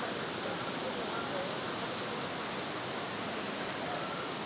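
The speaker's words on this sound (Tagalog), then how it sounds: "Kambugahay Falls." Kambugahay Falls on Siquijor gives a steady, dense rush of falling water that fills the whole scene without a break.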